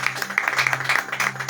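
A church congregation claps together during a worship service, a moderate, fairly steady patter of hands over a low sustained hum, with a few louder bursts along the way.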